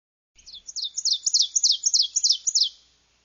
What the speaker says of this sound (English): And his song sounds like, "Teacher, teacher, teacher."